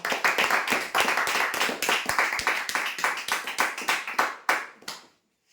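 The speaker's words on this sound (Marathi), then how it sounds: "शिलाई मशीनसाठी जोरदार टाळ्या होण्यासाठी" Crowd clapping for a sewing machine prize winner at a weekly lucky draw, a dense burst of hand claps that holds steady for about five seconds and then stops abruptly.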